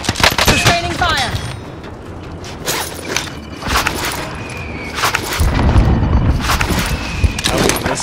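Bursts of gunfire in the video game Call of Duty: Warzone, loud close shots in clusters separated by short pauses, mixed with mechanical rattles and creaks and a low rumble.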